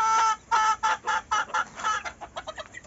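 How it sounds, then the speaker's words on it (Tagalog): A red junglefowl (labuyo) rooster clucks close by in a quick run of about ten sharp, nasal clucks that grow shorter and softer toward the end, with no other sound. "Melchor, ito yung labuyo na binigay sa akin."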